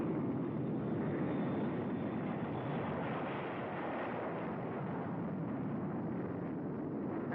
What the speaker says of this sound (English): drone jets, pilotless, crewless, at super speed flown up into the night sky